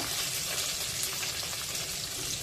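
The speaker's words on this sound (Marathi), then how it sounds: "एक मिरची कांदा परतून घ्यायचा आहे" Sliced onion and a green chilli sautéing in a pan with bloomed cumin and coriander, a steady, dense sizzle close up and even throughout, with no voices.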